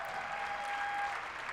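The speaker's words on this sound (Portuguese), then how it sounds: "Por que não aplaudimos o Eric de novo?" A church audience applauds for the guest preacher Eric, a brief, fairly soft wash of clapping with a steady tone ringing underneath.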